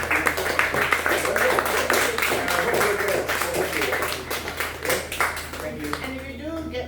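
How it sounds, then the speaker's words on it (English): An audience at a book bar event claps warmly after a question session. The clapping runs dense and steady throughout, with talk mixed in. "can we give Rowena a big round of applause"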